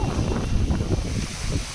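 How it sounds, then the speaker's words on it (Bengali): Wind blows steadily across the microphone at a fairground beside a Ferris wheel, a continuous close, buffeting low rumble with slight gusting swells and no voices throughout. "ও হাওয়া দিচ্ছে"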